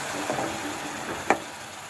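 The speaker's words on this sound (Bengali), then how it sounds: "পেঁয়াজগুলো ভালো করে ভেজে নিতে হবে" Onions fry in a pan for chicken kofta curry as water is added, giving a soft close sizzle and stirring sounds with one sharp clink partway through.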